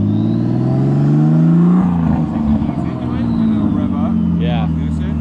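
A Datsun 240Z with a swapped RB25DET engine and a misfire revs hard, climbing then dropping with a rough, uneven note, loud and close, while people speak over it.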